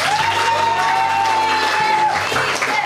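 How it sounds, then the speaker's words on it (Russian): An audience applauding the winning team at a quiz contest, a dense steady clapping from a crowd with a few whoops and a sustained tone running through it. "Но мы аплодируем и Ириинской гимназии"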